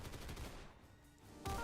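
Gunfire in a Roblox shooting game, heard as a dense, continuous rattle of shots with no talk, which drops briefly and then returns loudly near the end.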